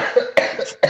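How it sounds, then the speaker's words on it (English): Three short, harsh coughs from one person, fairly loud and close, with brief pauses between them and no talking. "that would be a better excuse for coughing like this"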